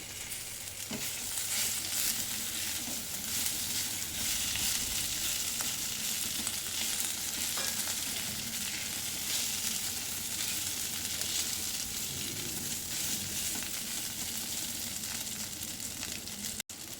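Two boiled potatoes hit a hot oil tempering in a pan and are stirred, a steady dense sizzle running throughout with faint scraping and stirring underneath, close and continuous with no talking.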